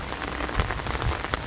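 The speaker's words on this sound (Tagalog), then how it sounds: "Walang kasamang hangin ang ulan." Heavy rain from Typhoon Aghon pours down without wind, a dense, even hiss of drops striking surfaces close by, alone and unbroken.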